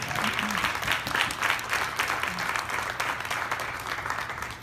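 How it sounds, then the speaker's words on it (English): A breakfast audience applauds COTAD, a steady wash of many hands clapping in a room that swells and lingers at an even, moderately loud level, with faint voices mixed in. "How about a big round of applause for COTAD?"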